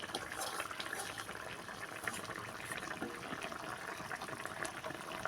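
Fish curry with mustard paste bubbles at a rolling boil in a pot, a continuous soft hissing and popping that stays steady and fairly faint throughout.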